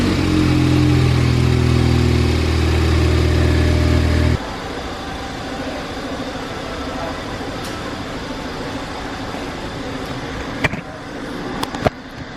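A Ford Fiesta ST fitted with a Revo RT330 upgrade runs loud and steady, a dense engine drone that drops to a lower idle partway through, with people talking over it and a few sharp knocks near the end.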